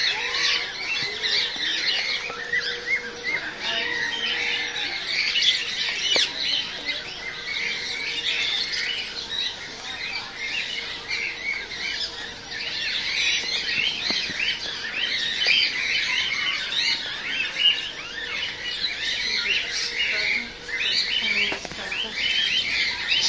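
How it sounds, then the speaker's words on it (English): Dense chorus of bird calls and chirps from a large zoo aviary holding many Chinese pheasants, continuous and fairly loud throughout with overlapping squawks and tweets, no talking. "Chinese pheasants."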